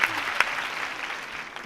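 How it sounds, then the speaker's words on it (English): Prerecorded applause played through theatre speakers: a short burst of clapping, moderately loud and even, with no voices over it. "I love the applause too, Jay. Even though we know it is not real"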